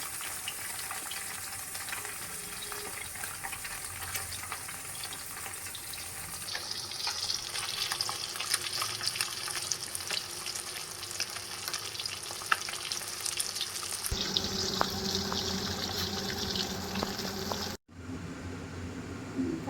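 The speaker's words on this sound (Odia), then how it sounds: "ତେଲ ଯେଉଁ ଅନୁପାତରେ ରଖିଛି ସେ ଅନୁସାରେ ମାଛକୁ ପକାଉଛି।" Fish sizzling steadily as it fries in hot oil in a home kitchen while a mustard fish curry is prepared, with stirring clatter and a brief splash of running water near the end; no talk.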